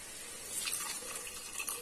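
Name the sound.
pouring water into cooking gravy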